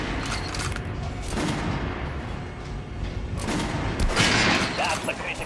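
Repeated gunshots fired at armored shooting range targets in the Metro Redux video game, a cluster of sharp reports with echoing booms and a heavier burst near the end, heard under brief talk.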